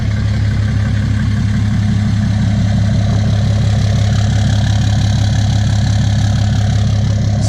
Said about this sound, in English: Truck sounds like Cummins.